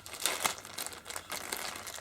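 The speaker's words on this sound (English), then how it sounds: "they're all sealed in their own plastic bags." Thin plastic bags holding bass guitar neck parts crinkle and rustle up close in a steady handling rhythm, with a short pause midway and no voices.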